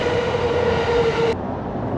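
A Tokaido Line train bound for Atami pulls into a platform at Odawara station with a steady, close rumble and a thin whine that stops abruptly as it slows.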